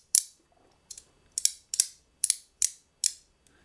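A haptic fidget coin clicks sharply seven times at a brisk, slightly uneven rhythm, each crisp metallic snap close and bright with a short ringing decay in a quiet room.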